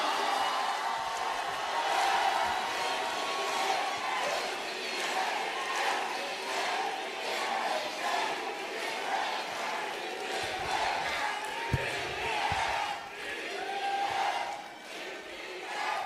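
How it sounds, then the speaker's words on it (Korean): At a Democratic Party rally, a large crowd welcomes candidate Lim Mi-ae with loud, sustained applause mixed with cheering and shouts, a dense wash of sound filling the hall throughout. "뜨거운 박수로 맞이해 주시기 바랍니다"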